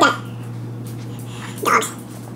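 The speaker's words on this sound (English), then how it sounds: "Dogs." Dogs bark outdoors in a couple of short bursts, one at the start and another near the end, over a steady low hum with faint background noise.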